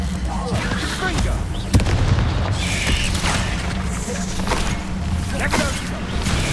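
In the video game Hogwarts Legacy, a Confringo fire-blast spell bursts amid ongoing combat, with a dull booming impact and rumbling explosive noise under a player shouting spell names.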